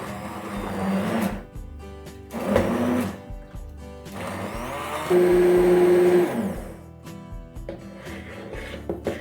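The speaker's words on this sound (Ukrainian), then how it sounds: "І збиваю погружним блендером." An immersion blender whirring in bursts through a green pea and cauliflower cream soup, pausing and restarting, with a louder steady whine midway as it churns.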